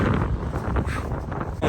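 Wind gusts outdoors near an alpaca shelter, a steady rushing roar buffeting the microphone for a couple of seconds with no voices.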